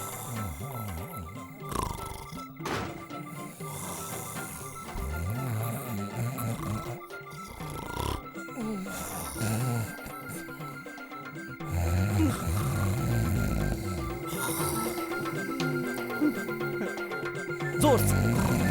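A man imitates loud snoring in a drama scene, with rough, rumbling snore-like grunts repeating over the scene, mixed with other voices speaking and background noise.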